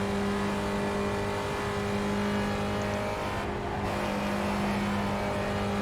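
A Spec Racer Ford race car's engine drones steadily under throttle at Spa-Francorchamps in the iRacing sim, with a constant loud hum and a brief dip in tone as the driver lifts through a chicane, and no voices.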